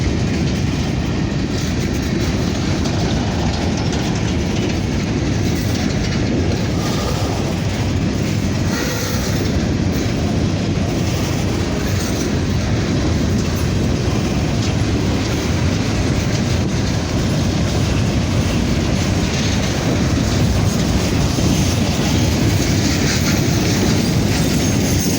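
A loaded westbound grain train passes close on the Harrisburg line, a loud continuous roar of wheels with clickety-clack rhythm and occasional squeal, sustained throughout.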